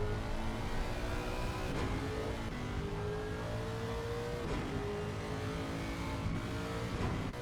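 Race cars from the sim racing game circling the Nordschleife in a six-hour pre-2019 event, a Lexus and a Porsche among them, give a steady, loud blend of engine drone and revving, with several cars passing close by.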